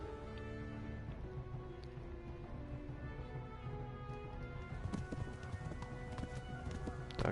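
A horse galloping in Kingdom Come: Deliverance, rhythmic hoof clip-clop over a tonal music bed, the hoofbeats growing heavier and more prominent in the last few seconds, with no speech.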